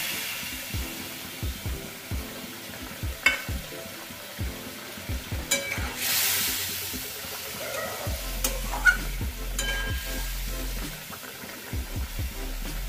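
Pieces of fried rohu fish slip into a boiling mustard gravy and get stirred, a run of close scraping clicks and gentle bubbling sizzle at a moderate level with no talk.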